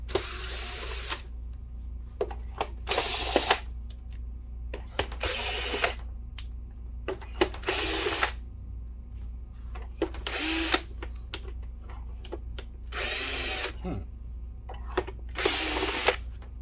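A power screwdriver backs out the cover screws on an Optoma EH416 DLP projector, giving about seven separate whirring bursts of roughly a second each, spaced by short pauses, close and moderately loud over a low steady hum.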